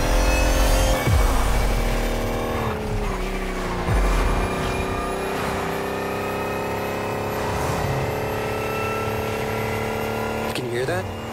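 A car racing at high speed around a speedway in The Crew Motorfest, giving a steady, loud layered tonal whine that holds through the whole stretch with slight pitch shifts, with a voice talking over it at times.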